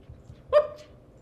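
A dog that is struggling and walking stiffly gives a single short bark, quite faint, over quiet low background noise. Nobody speaks.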